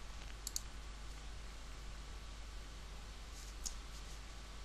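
Computer mouse clicks on a menu link in customer-management software, two quick faint clicks near the start and another pair later, over a steady electrical hum with no speech.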